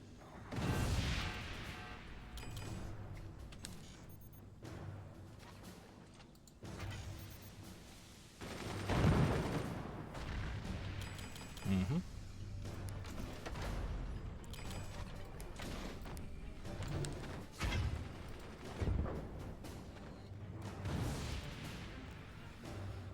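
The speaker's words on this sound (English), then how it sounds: "Get to work, missile pods." Missile pods launching in the physics-based fort-building game Forts, heard as a dense barrage of bursting shots and booms with sharp impacts, in bursts over a steady mechanical rumble, fairly loud and without talk.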